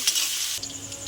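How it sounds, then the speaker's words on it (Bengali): Chopped onion hissing as it fries in oil in a wok, a short close sizzle that drops back to a softer crackle partway through. "পেঁয়াজটা ভাজা ভাজা করে নেব।"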